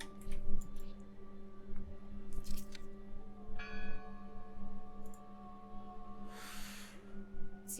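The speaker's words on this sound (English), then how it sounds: "I heard the bell." A church bell tolls in a video game, ringing out in several separate strikes with long, humming tails over a steady low drone and faint ambient noise.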